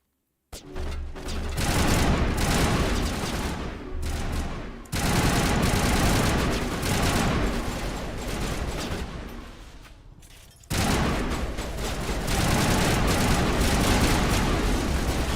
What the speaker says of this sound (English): that's a pretty good assault rifle